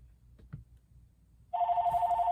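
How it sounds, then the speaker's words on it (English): A telephone rings with a steady electronic tone that starts abruptly partway through, loud and close, after a quiet stretch with only faint room noise. "the telephone's ringing"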